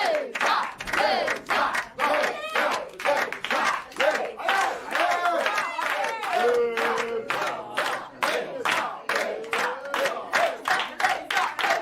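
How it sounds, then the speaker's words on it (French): A live audience claps and cheers for a performer being introduced, with dense rhythmic applause, shouts and encouraging chants from a lively crowd throughout, loud and close. "je vous demande de l'applaudir"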